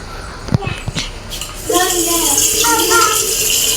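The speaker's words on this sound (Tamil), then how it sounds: "இப்போ இந்த பாத்திரத்தில் தண்ணி பிடிச்சிக்கலாம்." Tap water runs into a cooking pot being filled for steaming puttu in a home kitchen, a steady, loud splashing stream that starts after a few clattering knocks of the pot being handled.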